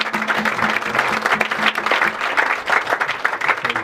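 Congregation applauding during a church crusade service, steady dense clapping from a crowd filling the space without pause, with no clear talk over it.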